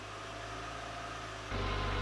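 Renault Clio 1.2 16v engine held at fast idle, a steady close hum that steps up suddenly to a louder, denser drone partway through.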